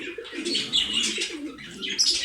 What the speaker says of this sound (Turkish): Erkek güldür güldür ötüyor.